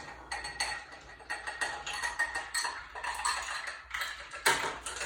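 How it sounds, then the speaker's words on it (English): Ice cubes clatter and clink into a glass for a non-alcoholic mojito, a busy run of close, bright knocks and rattles lasting several seconds with no talk. "Fill it with ice."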